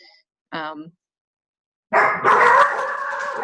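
Pet dogs barking in the background during a call: one short bark, a pause, then a louder, sustained burst of barking. The talk around it is faint.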